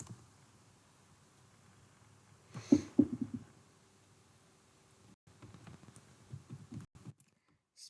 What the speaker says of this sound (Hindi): यहाँ पे GS1 लिख के GS1 USA लिख के सर्च करेंगे